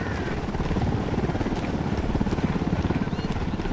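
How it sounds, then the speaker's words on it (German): Helicopter rotor thudding steadily and growing nearer in the video game Ghost Recon Wildlands, a dense rhythmic chop filling the whole stretch, loud and continuous. "Da kommt ein Heli."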